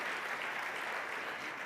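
Applause fills an award ceremony for economy and development prizes, a steady dense clapping from a large audience that holds at an even level throughout, with no voices over it.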